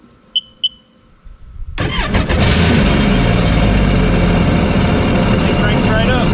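A salvaged, previously swamped Sea-Doo jet ski engine cranks and fires up after repairs, settling into a loud, steady running roar close by, preceded by a couple of brief clicks.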